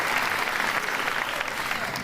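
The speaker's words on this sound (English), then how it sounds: "let's also give a big round of applause for our 8th graders" Steady applause from an audience honoring the 8th grade class at a Lebanon Middle School recognition ceremony, dense clapping holding at an even level throughout with no voices over it.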